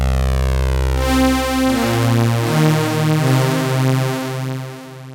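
Juno-style synth stabs with random oscillator pitch drift, a loud buzzy sequence of sustained notes stepping up and down, with slightly wavering pitch that gives a chorus-like shimmer.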